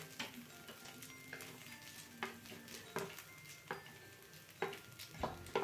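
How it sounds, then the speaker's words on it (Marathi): Fried peanuts being stirred into aloo matar poha in a pan, with soft scraping stir strokes and light sizzle repeating every second or so at close range, no talk. "आता यामध्ये आपण जे शेंगदाणे तळून घेतलेत ना"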